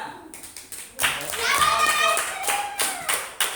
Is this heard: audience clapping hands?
yes